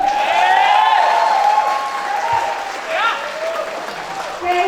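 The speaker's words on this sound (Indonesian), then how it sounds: "boleh tepuk tangan dulu" Audience applause at a theatre troupe's performance, a steady wash of clapping running under a voice that carries on over it throughout.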